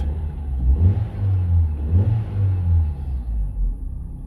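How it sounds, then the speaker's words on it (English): Vauxhall Astra H with a freshly replaced 1.6 engine, revved gently at standstill: a steady low idle rumble swelling in two brief rev blips before settling back, close and alone with no talk. "Give it a little rev."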